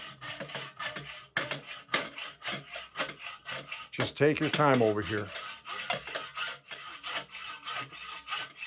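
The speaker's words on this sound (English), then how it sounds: "Just lightly go through it and let the blade cut all of it" A saw blade cuts through a metal bicycle steerer tube with repeated back-and-forth rasping strokes in a steady rhythm, close by, with a brief stretch of higher ringing scrape near the middle and a few quiet spoken words over it.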